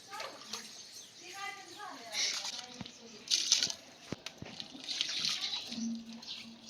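Water bubbles and gurgles at a full boil in a pot close by, spiced with bay leaf, while someone talks over it.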